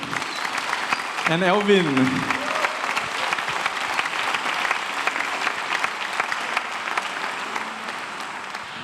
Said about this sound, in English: one more applause for soloists Gail